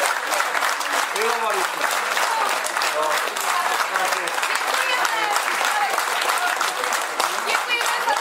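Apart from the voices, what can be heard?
audience applause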